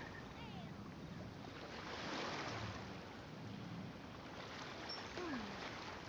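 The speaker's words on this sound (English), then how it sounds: "Sound of the ocean waves." Ocean waves wash in the video game Genshin Impact, a broad steady roar of surf and wind at low volume. Faint game tones and chirps sit briefly on top of it.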